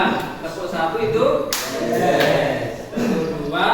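A group claps out a rhythmic counted pattern during a classroom practice session, short bursts of clapping separated by pauses with a voice between them.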